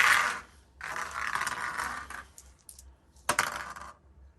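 Dice for a Bolt Action tabletop wargame battle between Americans and Afrika Korps, tossed in two clattering bursts on a hard surface, rattling and settling close by, with a sharp last tumble near the end.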